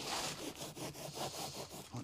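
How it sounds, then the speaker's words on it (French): A small hand saw cuts through wood fibre insulation with steady back-and-forth rasping strokes, soft and fairly close, repeating in an even rhythm throughout. "Si vous voulez couper de la laine de bois sans trop vous faire chier, prenez pas un cutter, c'est trop la misère avec un cutter, croyez-moi. Prenez une scie."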